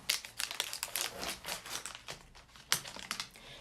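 Crinkly plastic packaging of an 18-gauge IV catheter being torn open by hand, a busy run of close rustling and crackling bursts with one sharper rip near the end, no talking.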